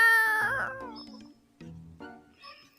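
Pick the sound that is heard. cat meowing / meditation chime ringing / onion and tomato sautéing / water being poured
cat meowing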